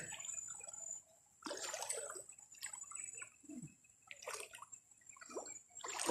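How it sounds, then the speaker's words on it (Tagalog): Strong floodwater flows in the area, heard as close, irregular bursts of splashing and gushing water separated by brief quieter gaps, with no talking. "Grabe talaga ang lakas ng tubig."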